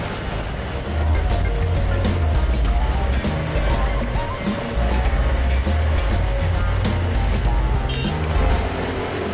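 A bus grinds along rough, steep, twisting mountain roads in the eastern Himalaya in Sikkim, its engine a steady low rumble with rattling and jolting clatter throughout, heard from inside near the driver.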